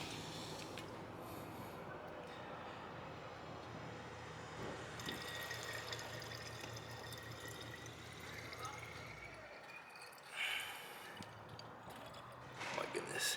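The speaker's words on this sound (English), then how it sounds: "And then you're gonna pour that in there." Ethanol poured into a container while mixing an E85 fuel blend, a steady liquid pour lasting most of the stretch, with brief pauses and splashes near the end, under some speech.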